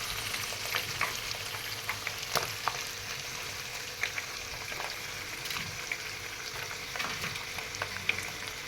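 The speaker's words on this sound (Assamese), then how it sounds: "পিঁয়াজখিনি অলপ এনেদৰে লৰাই দি দিছোঁ।" Onions frying and being stirred in a pan, a steady sizzle with scattered sharp crackles and spatula scrapes recurring every second or so, close and clear without speech.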